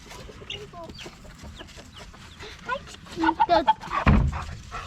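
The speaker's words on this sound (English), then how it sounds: "The 3 baby chicks are, well, they're in here somewhere" Three baby chicks indoors give scattered, faint peeping clucks, growing busier and louder toward the end with a sharp burst of noise near the close.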